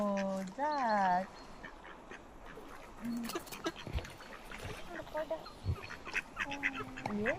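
Ducks being fed at a lake in Finland quack loudly and repeatedly nearby, with honking calls at the start and end, while people talk in the background.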